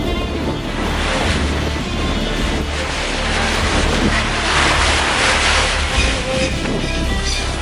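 Ocean surf rolls onto the beach at Praia do Iguaçu on Ilha Grande, a loud continuous wash of breaking waves with heavy wind rumble buffeting the microphone and no talking.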